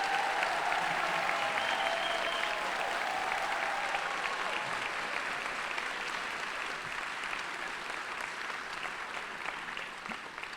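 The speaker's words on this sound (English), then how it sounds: "let's give them a thunderous applause" Sustained audience applause at a Salute to Women in Leadership ceremony as honorees stand, a dense, loud wash of clapping that continues steadily and fades slightly toward the end.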